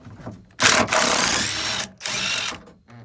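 A DeWalt power drill backs out a bolt holding the wing-window pillar on a 1992–97 Ford F350, giving two loud, close whirring bursts of about a second each with a brief pause between.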